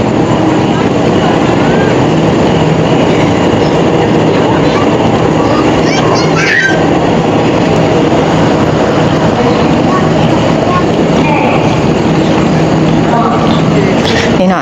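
A Laos-China railway train at a station, heard as a loud, steady rumbling roar that fills the whole stretch and masks everything else.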